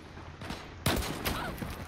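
Burst of gunfire in the online shooter Zula, a sharp volley hitting at once after a quieter stretch, then further shots rattling on loud and close, with no talk.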